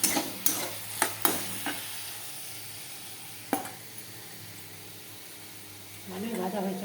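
Fish fries in a pan with a faint, low sizzle beneath several distinct clinks and scrapes of a utensil early on, and a brief rise of bubbling toward the end.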